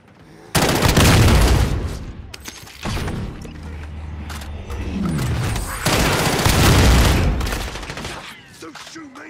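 Loud, close bursts of automatic gunfire and booming shots from Warzone gameplay, several heavy volleys separated by brief lulls, with occasional voices in the mix.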